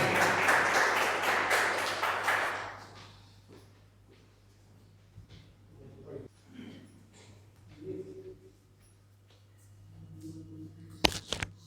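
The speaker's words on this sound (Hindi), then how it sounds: "तो एक बार उनके सम्मान में जोरदार तालियां हो जाएं" An audience at a Hindi poetry gathering claps for a poet from Kashipur, a short burst of applause that fades after a few seconds, followed by quieter room sounds, faint voices and a steady low hum.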